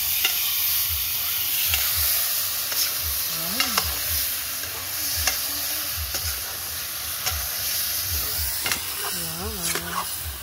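Chicken tinola stirred in a small pot, a soft sizzle and simmering hiss under scattered scraping clinks of a spoon, with brief voices nearby.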